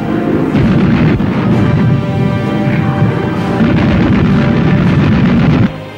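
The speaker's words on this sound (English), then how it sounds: "Bombs and machine gun bullets are coming at this ship in bucket loads." Bombs and machine gun fire strike a WWII aircraft carrier under Japanese torpedo and dive bomber attack, a loud continuous barrage of booms and rapid bursts.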